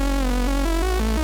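A warm synth lead, gently distorted by tube saturation on a Saturn II, plays a slow stepwise melody of sustained notes, smooth and continuous with a rich harmonic buzz.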